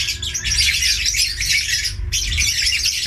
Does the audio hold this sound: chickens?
yes